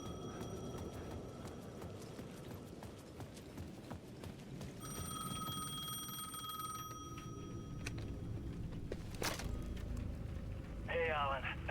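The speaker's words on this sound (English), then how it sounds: "The payphone at the edge of the plaza was ringing again." A payphone at the edge of a plaza rings repeatedly in the video game Alan Wake II. The bright bell-like trills come in a regular pattern over footsteps and ambient game noise at moderate loudness.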